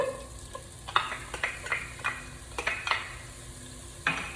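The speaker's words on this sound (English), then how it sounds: "We're going to get our spoon ready here, because to that oil we're going to add our medium yellow onion" A medium yellow onion frying in hot oil, stirred with a spoon, giving a steady low sizzle broken by repeated scraping and clinking strokes close by.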